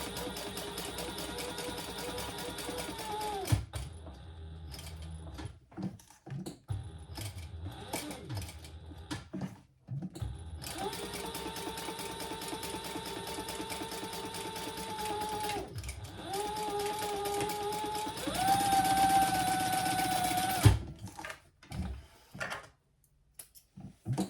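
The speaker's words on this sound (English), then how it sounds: "Doing a little chain stitching." An industrial sewing machine chain-stitches a curved handbag in several bursts, each a steady mechanical whir lasting a few seconds, separated by pauses with quiet handling clicks; the last run climbs to a faster, higher hum.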